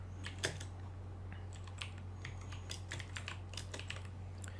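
Quick, uneven keystrokes tapping on a computer keyboard, while text is typed into Photoshop during a T-shirt design, sit up close over a steady low electrical hum.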